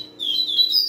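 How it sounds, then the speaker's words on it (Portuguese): Caged coleiro (double-collared seedeater) songbirds in a breeder's aviary give quick, high thin chirps and twittering notes over a faint low hum, close and clear. "eu tenho aqui um plantel com aproximadamente 40 pássaros"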